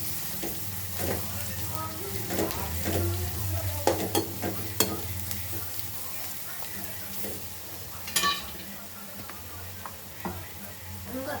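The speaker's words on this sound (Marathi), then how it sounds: "व्यवस्थित परतून घेऊया ही सगळी प्रोसेस आपण मिडियम गॅसवरच करायची आहे हाय फ्लेम करायची नाही" Capsicum (Shimla mirch) sabji sautéed in a pan over a medium gas flame, with a steady sizzle and repeated stirring scrapes and clicks of a spatula against the pan, close and continuous with no talking.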